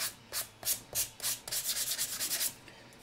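Sanding and polishing of filler on a model railway build, heard as repeated rhythmic scrubbing strokes of fine abrasive, close and fairly loud, with short pauses that give way to a faster run of rubbing near the end.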